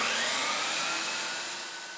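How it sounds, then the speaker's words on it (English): A workshop shop vacuum, switched on automatically by a tool-activated switch, runs with a steady loud broadband whoosh and whine, slowly easing in level over two seconds with no other sounds. "You'll see the hose compress as the vacuum is automatically turned on"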